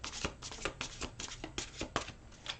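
Rapid riffling of tarot cards being shuffled, a series of crisp bursts and flutters in close succession, heard up close with no talking.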